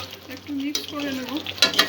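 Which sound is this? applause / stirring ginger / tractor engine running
stirring ginger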